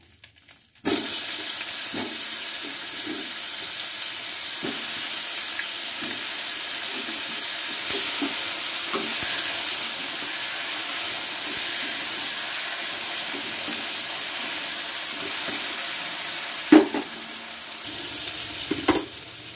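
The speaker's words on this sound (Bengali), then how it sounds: "এবার এই মাছের তেলেই আমি বেগুনটা ভাজবো।" Eggplant frying in leftover fish oil in a pan, a steady close sizzle with occasional stirring clicks and soft scrapes throughout, no voices.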